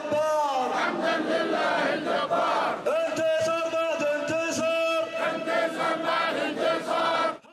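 A massed crowd at a large demonstration in Sanaa chants in unison, loud and sustained, with rhythmic shouted phrases rising and falling throughout.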